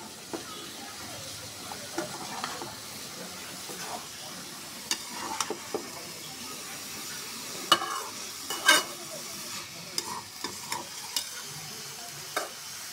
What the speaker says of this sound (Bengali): আমি এখন সুন্দর করে নেড়ে চেড়ে ঢেকে দেবো।